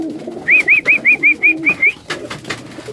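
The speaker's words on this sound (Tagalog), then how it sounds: "May mga lumapit na sa akin mga kalapatids." Pigeons being fed, one bird giving a rapid run of about eight soft rolling coos close by, followed by quieter shuffling and faint background murmur.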